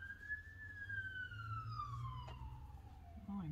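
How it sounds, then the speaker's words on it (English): A police car siren wails past outside, one long falling tone that fades as it moves away, heard faintly over a steady low hum indoors while a stoneware clay redbird is handbuilt. "I think it was a police car."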